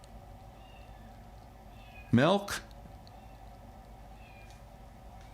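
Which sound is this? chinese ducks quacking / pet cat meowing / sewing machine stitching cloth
pet cat meowing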